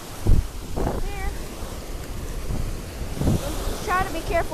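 Ocean waves wash and rush at the beach amid strong wind buffeting the microphone, with faint whistling tones and brief low thumps in a loud, continuous outdoor roar.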